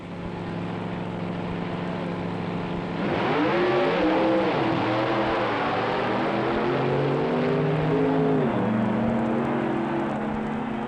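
Supercharged A Gasser drag cars at the 1964 NHRA U.S. Nationals, Indianapolis Raceway Park: a steady loud engine drone that surges into rising, howling revs through repeated gear changes, continuous and close for the whole stretch.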